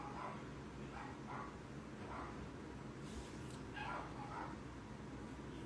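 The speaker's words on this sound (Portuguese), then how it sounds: "Olha os outros latindo." Several dogs bark in short, repeated bursts over a steady hiss of background noise, sounding moderately distant and continuing throughout.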